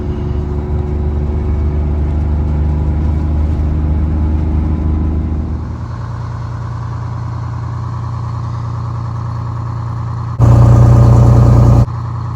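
A vintage bus engine idles steadily with a low, droning exhaust hum; the tone shifts partway through, then a brief louder burst of engine noise.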